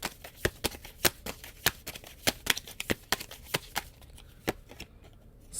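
Runic tarot cards being shuffled by hand, giving a steady run of crisp, close riffling snaps at an even rhythm that thins out and stops toward the end, with no talking.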